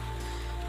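Rain falls steadily in the video game Necrobarista, a soft continuous patter heard briefly under a low ambient hum, with no talking.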